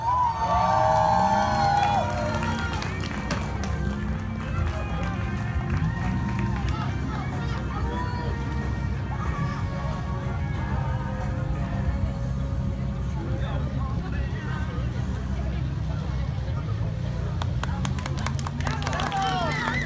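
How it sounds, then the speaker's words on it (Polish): A crowd at a motocross awards ceremony in Rajkowy, cheering and calling out loudly at first, then a steady buzz of chatter and scattered claps, with a voice on a loudspeaker over it. "Ogromne brawa"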